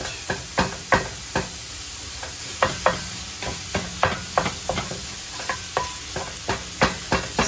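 Pork sausage fries in a pan while being broken apart, a steady sizzle punctuated by regular sharp knocks and scrapes of a utensil against the pan, close and clear.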